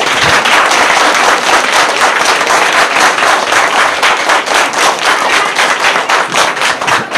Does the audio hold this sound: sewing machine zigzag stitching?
no